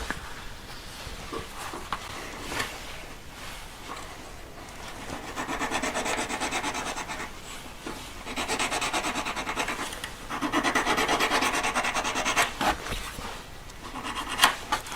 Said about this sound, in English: just keep filing around